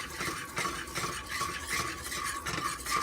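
A whisk scrapes steadily through a pan as 2% milk is worked into a roux for a chicken enchilada bake, a continuous brisk stirring rhythm with a faint sizzle underneath.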